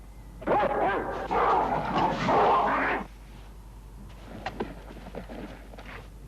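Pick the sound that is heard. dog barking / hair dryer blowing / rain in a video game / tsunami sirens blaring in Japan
dog barking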